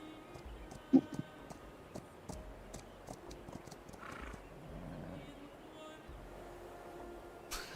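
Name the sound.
horse unit sounds in video game Humankind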